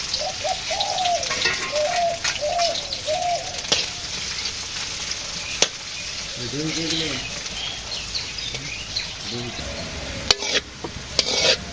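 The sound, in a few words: frying onions in a pan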